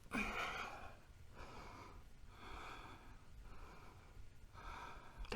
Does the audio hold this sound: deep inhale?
yes